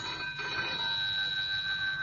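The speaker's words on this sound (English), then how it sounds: "answered at once when the phone rang by my bedside" A telephone ringing beside a bed at night, a steady electronic ring with bright sustained tones running through the whole clip, close and fairly loud, with no voices.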